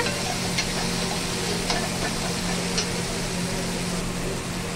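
Spice masala with ground coriander fries in a pan for dal with greens, a steady close sizzle with light, regular ticks of stirring running through it, no voices.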